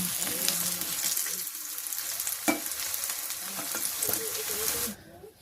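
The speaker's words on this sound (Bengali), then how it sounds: "সবগুলো পকোড়া হচ্ছে আমি এইভাবে ভেজে নেব, ফুলকপির পকোড়া" Cauliflower pakoras deep-frying in oil in a village kitchen, a close, continuous bubbling sizzle with a brief clatter midway that cuts off abruptly near the end.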